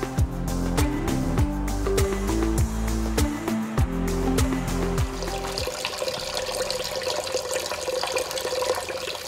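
Tap water runs steadily into a sink during cleaning, a continuous splashing flow with clattering of items at first, then a smoother hissing stream toward the end.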